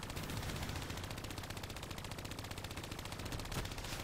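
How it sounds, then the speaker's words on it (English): Sustained automatic gunfire in Call of Duty Black Ops III, a dense unbroken stream of rapid shots with a louder burst near the end, no talk. "I'm just aiming at every little thing I can shoot"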